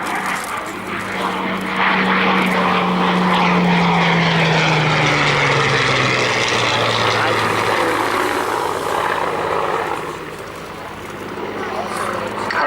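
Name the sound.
Hawker Hurricane Rolls-Royce Merlin propeller aircraft flying past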